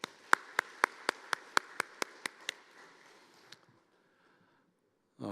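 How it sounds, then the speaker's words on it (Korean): About ten sharp, evenly spaced claps ring out, then stop. A faint tap follows, then quiet, and a brief noise comes at the very end, all from a small gathering in a church. "다시 한번 박수 해주시기 바랍니다"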